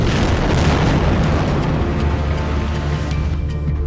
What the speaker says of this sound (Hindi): इजरायल के तूफानी हवाई हमलों में बमों के धमाके ऐसे इमारतों को उड़ा रहे हैं